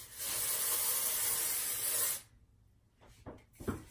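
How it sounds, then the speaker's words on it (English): Dry shampoo sprays from an aerosol can onto a wig in one long, steady hiss lasting about two seconds, followed by a few soft rustles and handling sounds. "So you can spray that all over the wig to create a little more of a natural effect."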